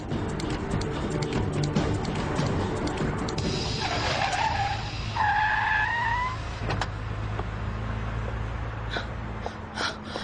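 A car engine roars steadily while the vehicle moves fast, with a short squealing, whining tone rising partway through.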